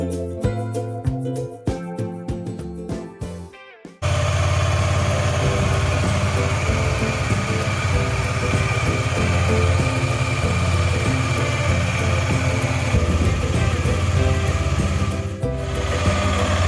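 KTM ADV 250 adventure motorcycle cruising a highway between Mumbai and Goa, its engine a steady, loud continuous drone with wind rush for most of the stretch, after a brief quieter, choppier opening.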